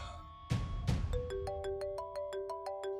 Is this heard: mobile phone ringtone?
yes